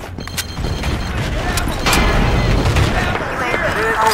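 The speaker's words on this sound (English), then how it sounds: "Frag grenade!" Frag grenade blast in Battlefield 2 online gameplay on the Road to Jalalabad map: a loud, rumbling boom amid dense gunfire and game radio chatter, with voices speaking throughout.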